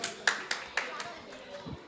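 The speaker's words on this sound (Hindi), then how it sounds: "आइए बिटिया, एक बार जोरदार तालियां बजाएंगे इस प्यारी सी गुड़िया के लिए।" Scattered hand claps from a crowd at a religious procession greet a girl riding a horse, a few sharp separate claps at a fair distance, with a voice speaking over them.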